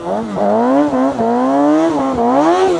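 A Kawasaki 636 sport motorcycle revs loudly and close while the rider pulls stoppies, the engine note surging and dipping in repeated swells with short throttle blips, no voices over it.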